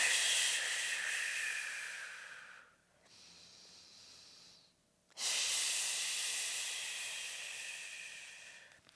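Deep, loud breaths during an exercise routine: a long breathy inhale, a quieter pause, then another strong airy breath, close to the mic with no talking.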